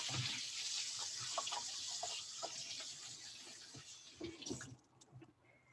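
Tap water runs steadily into a sink while carrots are washed by hand, with occasional soft handling knocks, before the flow cuts off near the end; close and quiet, no talking.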